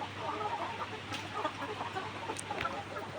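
Laying hens in a hot poultry house on an egg farm give soft, scattered clucks over a steady fan hum, fairly close and continuous through the short stretch.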